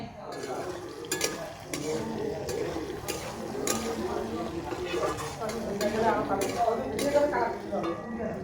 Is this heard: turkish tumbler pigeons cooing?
no